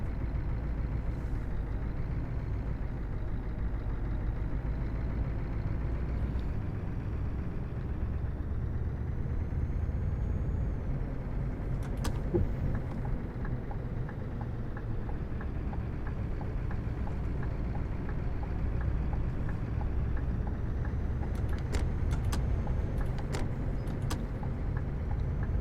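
A long wheelbase truck drives in a trucking video game, giving a steady low engine rumble and road drone with occasional faint clicks and a short hiss over the top.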